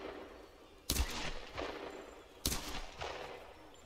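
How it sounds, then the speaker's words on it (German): Gunfire in the Tomb Raider video game comes as two sharp, loud shots about a second and a half apart. Each is followed by rumbling echoes and trailing impacts. "Und jetzt dürfen wir wieder schießen."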